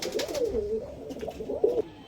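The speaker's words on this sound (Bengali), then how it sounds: "মাদা পায়রা" A female pigeon of a Madras giribaz fancy breed coos in soft, close rolling phrases, two or three in a row, with faint background noise and no speech.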